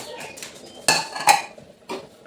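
Metal ladle clanks and scrapes against a cooking pot of plain boiled khichuri in a home kitchen, a few sharp close knocks and clinks separated by brief pauses.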